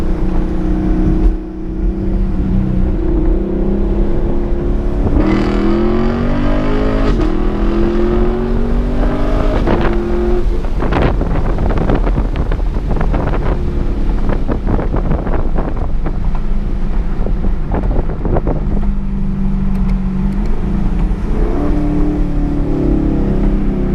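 A 2018 Camaro SS V8 with an MBRP 3-inch quad axle-back exhaust drives past and revs, its deep exhaust note rising and falling through manual shifts, loud and close with wind buffeting the microphone.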